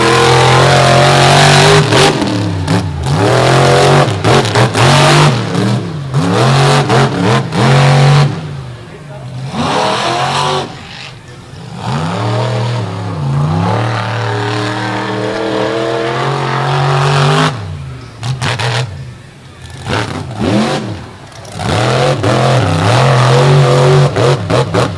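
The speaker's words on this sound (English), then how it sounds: "That's actually an old pulling motor, and you can't just blast those things when they're cold." An old pulling motor in a monster truck at a beach show revs hard and loud nearby, rising and falling in repeated bursts with brief lulls, while an announcer talks over it.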